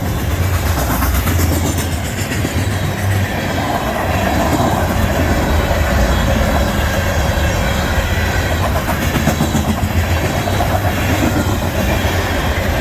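A CN freight train with a DPU locomotive rolls past at Ladysmith, a loud, steady roar of wheels on rail with rhythmic clickety-clack and low engine rumble sustained throughout, no talk.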